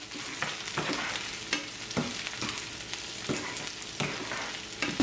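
Brinjal frying in oil in a pan, a steady soft sizzle broken by repeated scraping stirs at a fairly regular pace, close and fairly quiet.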